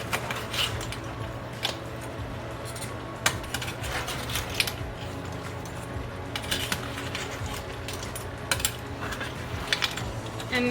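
Parsley being stirred into a Portuguese pork Alentejo dish in a pot, with steady soft scraping and clinking of a utensil against the pan and a low simmering hiss underneath.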